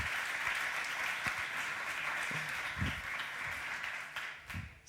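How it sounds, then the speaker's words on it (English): Continuous applause from an audience at a startup conference's Sandbox Stage, South Summit 2016, a dense even patter of many hands heard at a modest distance, fading slightly toward the end. "Please, massive applause to Vitaly Golub."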